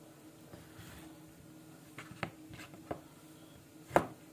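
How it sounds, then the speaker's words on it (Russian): Quiet, scattered knife cuts slicing sausage on a board, a few soft chops spaced irregularly, with one sharper slice near the end. "После чего нарезаем колбасу."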